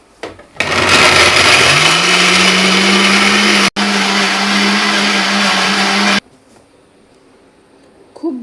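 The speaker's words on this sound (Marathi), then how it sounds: "आणि याला बारीक वाटून घ्यायचं आहे." A mixer grinder whirs loudly and steadily for several seconds as it grinds tomato, garlic, onion and chilli, pauses for a moment, runs again, then stops abruptly, leaving faint room noise.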